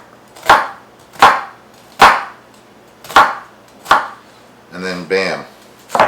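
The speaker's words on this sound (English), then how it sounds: "Diced onion right before your eyes" A knife chops an onion for pico de gallo on a board with sharp, evenly spaced thuds about once every 0.7 seconds, loud and close, and a short spoken remark comes between the strokes.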